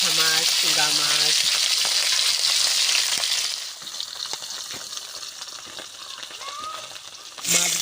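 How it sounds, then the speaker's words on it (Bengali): Latha fish sizzle loudly in hot oil, a dense steady frying hiss with a few clatters as the pieces are flipped to the other side; a voice speaks briefly at the start. "এক পিঠটা ভাজা হয়ে গেছে, আর এক পিঠটা আমি সুন্দর করে ভেজে নেব। উল্টে দেবো মাছগুলো।"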